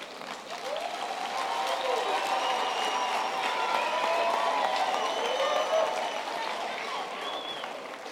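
Audience applause at a university graduation ceremony in a large hall, steady, dense clapping from a big crowd lasting throughout, with faint voices and cheers mixed in.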